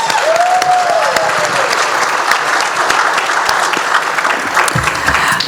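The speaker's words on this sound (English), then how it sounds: "Can we give them both another round of applause?" Audience applause at a gala in the Halls of St George, a loud, sustained wash of clapping from a large crowd, steady throughout with a brief whistle near the start.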